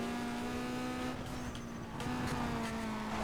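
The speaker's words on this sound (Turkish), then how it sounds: "Arabanın sesi bu arada muhteşem oldu." A steady modified Honda Civic engine in Need for Speed Underground 2 hums at a constant pitch, with some tire and road noise mixed in and no talking.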